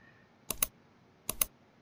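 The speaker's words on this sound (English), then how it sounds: "Now hit the 3 keys at the same time." Computer keyboard keys pressed in two quick pairs of sharp clicks, close and clear against a quiet room.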